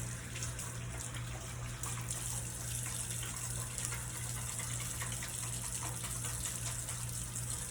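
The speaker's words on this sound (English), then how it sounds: "So I'm going to wash my hands really quick." Tap water runs steadily into a sink while hands are washed beneath it, a close, constant splashing rush with no talk.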